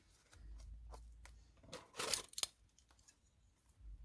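Scissors cut through paper while a stamped greeting card is being made. A few quiet, crisp snips come close together near the middle, with near silence around them.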